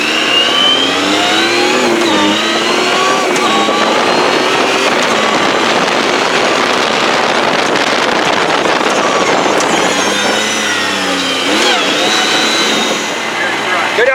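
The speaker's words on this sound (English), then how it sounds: "we're going to take her back out for a spin and shift some gears in this thing" A car's engine revs and pulls hard while driving, rising and falling through gear shifts around 2 and 10 seconds, loud and continuous throughout, with no speech over it.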